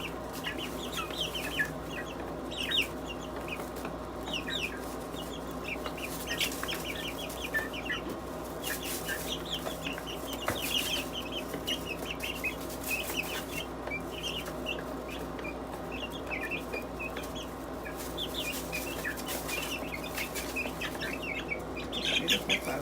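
Three-week-old chicks cluck and peep softly and continuously in their enclosure, a busy scatter of small chirps and clucks at moderate distance with no talking.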